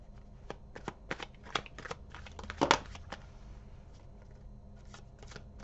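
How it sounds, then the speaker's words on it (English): Tarot cards are shuffled up close in short, crisp riffles and flicks, with one louder burst of card noise midway. The sound stays quiet and there is no talk. "Go give ourselves some cards for Capricorn, please."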